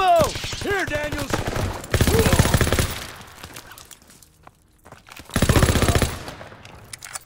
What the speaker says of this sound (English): I'm gonna shoot that guy